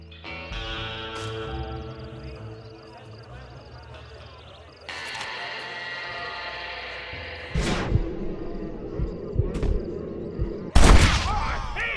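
Gunfire in the Red Dead Redemption video game: a few sharp, loud shots and booming cracks burst out over a music score, with spoken game dialogue mixed in.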